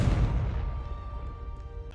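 Confringo blasting spell in Hogwarts Legacy: a single deep, booming explosion that hits hard at once and then rolls away into a fading rumble, with no voices over it.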